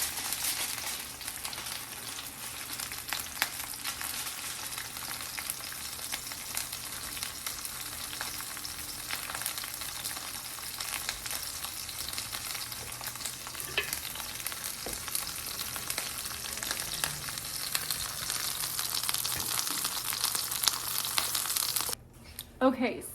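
Refried beans fry in a pan, giving a steady, bright, crackling sizzle that holds throughout, close and fairly even, with a faint voice underneath near the end.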